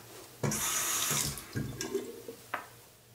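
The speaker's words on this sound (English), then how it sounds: "Throw a tad bit more water on here." Running tap water splashing during a straight-razor beard line-up: a bright hiss of flowing water begins abruptly, then breaks into shorter splashes and trickles, close and fairly quiet.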